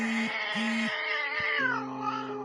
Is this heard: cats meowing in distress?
yes